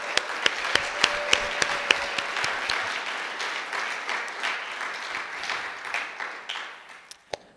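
A conference audience gives a round of applause, opening with several distinct loud claps over the crowd and settling into sustained, even clapping that tapers off near the end.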